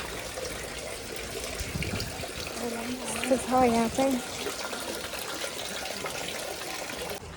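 Water runs continuously from a drinking-water spout at a temple in Maruyama Park, a steady splashing trickle heard close by while a person talks over it.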